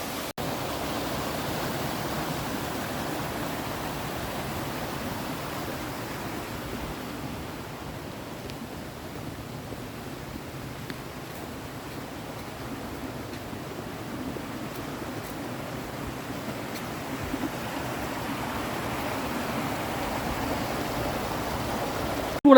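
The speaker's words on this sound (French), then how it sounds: "Pour ensuite arriver sur cette cascade, mais magnifique, regardez ça." A waterfall in Andorra rushes as a constant broadband hiss, steady and moderately quiet for the whole stretch.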